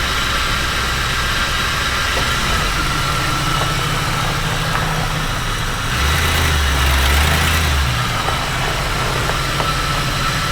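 A car engine left sitting for a year runs steadily on its own, a loud continuous idle with a low droning hum and a slight swell in the middle, with no talking over it.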